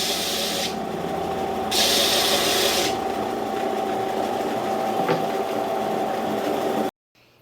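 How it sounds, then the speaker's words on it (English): A power sander working on wood for a handmade bread cutting board: a steady loud motor whine with a rasping abrasive hiss that swells and fades as the sander is pressed, running continuously before cutting off abruptly. "we'll sand it down to its final on that sander that Missy was just using"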